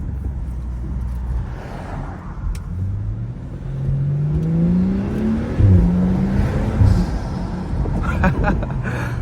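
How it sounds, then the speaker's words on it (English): BMW N55 engine heard from inside while driving, its intake rumble rising and falling through gear changes with a low steady drone, some whirring and faint crackles from the exhaust. "I just be listening to the intake. It sounds so good. Let me throw it in Sport Plus though. Get some pops with it."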